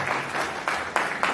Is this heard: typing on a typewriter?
no